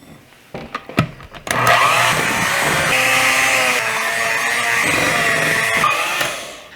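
An electric hand mixer beats thick gluten-free strawberry cupcake batter in a bowl. A few clicks and knocks come first, then the beaters run with a steady, close whir for about five seconds and wind down. Nobody talks.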